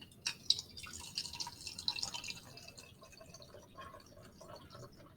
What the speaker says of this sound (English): I'm going to mix in my 4 ounces of water.